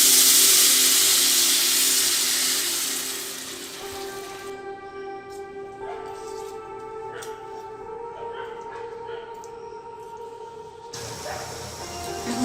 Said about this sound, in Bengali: এবার ঝোলের জন্য জল দিই